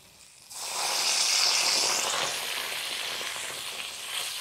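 Water is poured into a hot frying pan while vegetables and fish cook for a Bengali meal, setting off a sudden loud, bright sizzle that holds steady and then eases slightly.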